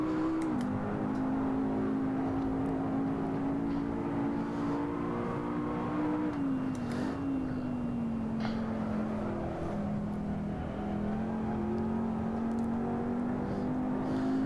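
McLaren 12C engine in the racing game Assetto Corsa at Silverstone, a loud continuous drone held at high revs that dips briefly and climbs again, with tire and wind noise underneath and no talking.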